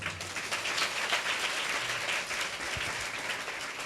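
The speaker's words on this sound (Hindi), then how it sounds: "उसके सामर्थ्य नाम को जोरदार ताली बजाएं।" A church congregation at a Palm Sunday service claps loudly and continuously, a dense wash of many hands close by that holds steady throughout with no talking.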